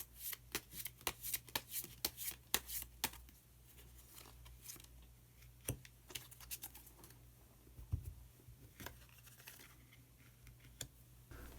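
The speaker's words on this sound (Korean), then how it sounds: "카드 한 장을 더 뽑고 이야기 계속 나누도록 하겠습니다" Tarot cards are shuffled and drawn: rapid crisp riffling and flicking patters come close up at first, then thin out to scattered soft taps and slides, with no talking.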